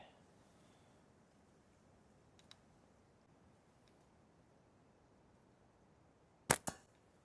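A slingshot is shot at a cowbell outdoors in cold weather. A faint tick sounds early on, then a long quiet stretch, then two sharp, close clacks in quick succession near the end.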